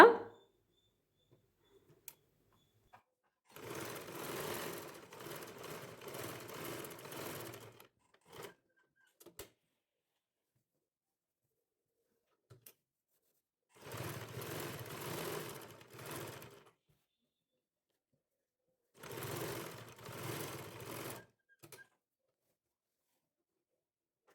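Sewing machine stitching along the pressed, folded edge of fabric for a square neckline, in three separate bursts of steady whirring with quiet pauses between them.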